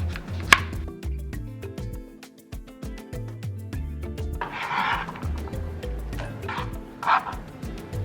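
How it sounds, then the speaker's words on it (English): Onion being chopped on a board, a run of quick knife taps under background music with tonal blips and bursts of brighter noise; no speech. "Chop your onion."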